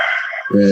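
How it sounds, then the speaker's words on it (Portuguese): A rooster crows at home, a short loud harmonic call rising in at the end right after a stretch of nearby talk. "tem um galo cantando"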